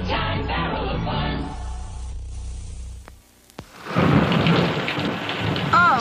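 Thunderstorm with heavy rain in a TV commercial: steady loud rainfall with a rumbling roll of thunder, then a sharp crack and a brief near-silence before the downpour returns even louder.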